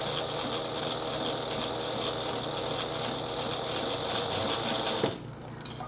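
A domestic sewing machine with a 1/4 inch edge foot stitches a pouch seam in a steady, continuous whir for about five seconds, then halts abruptly, leaving a couple of brief clicks and quiet.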